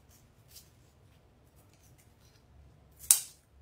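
Scissors snip once through Christmas deco mesh for a wreath: one sharp, bright cut near the end after quiet faint handling rustles.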